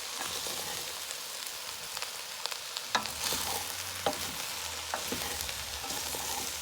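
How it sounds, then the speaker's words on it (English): A vegetarian Guyanese ground provision cook-up is stirred in a pot, with steady sizzling throughout and a few spoon scrapes and knocks against the pot, heard alone without talk. "we're gonna give this a mix again there"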